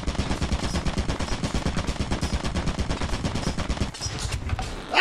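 Turret gunfire in a video game, a dense rapid stream of shots that stays steady and fairly loud for several seconds, then thins out briefly near the end.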